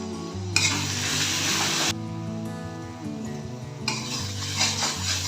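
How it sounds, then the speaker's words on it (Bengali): Spice paste for a fish curry sizzling and frying in a pan, with bursts of louder hissing as water is sprinkled in and a utensil stirring and scraping against the pan throughout. "এবার সামান্য করে জল ছিটিয়ে ছিটিয়ে মশলাটাকে আমি কষিয়ে নেব।"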